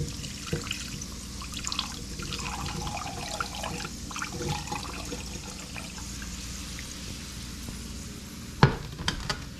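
Duck fat rendering in a pan on a home kitchen stove, a soft continuous crackle and sizzle with occasional stirring scrapes, capped near the end by a sharp clatter.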